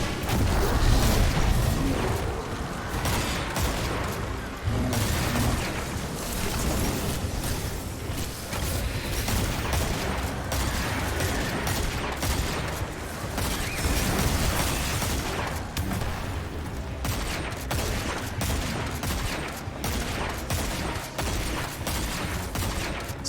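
Rapid, sustained volleys of video game gunfire from a scout rifle in Destiny 2, dense repeated shots with mechanical clatter and crashes, loud and continuous with brief lulls.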